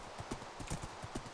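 A horse's hooves clip-clop in Minecraft's Lord of the Rings mod, with a brisk, steady rhythm of soft thuds and clicks at close range.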